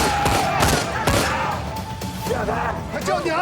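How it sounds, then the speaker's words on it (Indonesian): A warning gunshot fired into the air in an action film: a sharp shot cracks out, followed by several more loud impacts, in the middle of a busy scene with voices. "dia harus terpaksa mengeluarkan tembakan peringatan ke udara"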